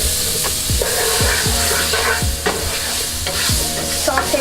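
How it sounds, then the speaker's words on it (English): Onions sautéing in a hot pan for a vegan coconut curry potato dish, a loud steady sizzle with repeated close scraping strokes of a utensil stirring through it. "Saute that real quick."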